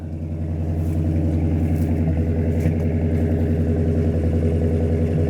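A long-dormant Dodge Monaco V8 with a chambered muffler idles as it warms up, heard from behind as a loud, steady, deep rhythmic burble with a slightly uneven pulse, running on its own without talk.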